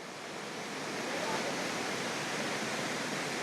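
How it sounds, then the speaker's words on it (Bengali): Water pouring out of Tsomgo Lake in East Sikkim and running downstream, a constant loud hissing rush close by that holds steady with no breaks. "ছাঙ্কু লেক থেকে জল বেরিয়ে নিচের দিকে চলে যাচ্ছে।"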